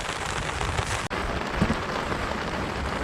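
Heavy rain pours suddenly over a reservoir at a fishing spot, a dense, steady hiss of drops close by that fills the whole clip with no voices.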